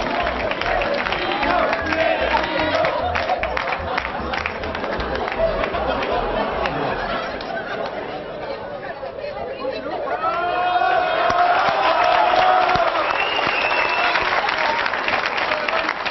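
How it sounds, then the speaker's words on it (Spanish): Sustained applause from a studio audience at a TV contest show, dense continuous clapping with cheering and chattering voices mixed in, swelling louder toward the end. "un aplauso para don Pepe Necochea"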